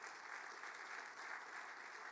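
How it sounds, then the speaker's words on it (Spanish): A church congregation at a Christian gathering claps steadily in a dense, even round of applause, moderately distant and without voices rising above it. "Vamos a darle un aplauso a esos pastores."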